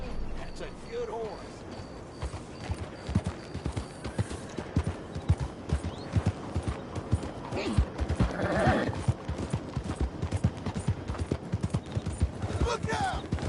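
Steady clip-clop of horse hooves at a trot in Red Dead Redemption, repeated rhythmic thuds under game music and occasional talk, with a brief whinny near the end.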